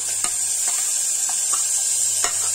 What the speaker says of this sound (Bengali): এই সময় আমি দিয়ে দিচ্ছি এই যে টমেটো কুচি করে রেখেছিলাম, যে টমেটো গুলো দিয়ে দেবো।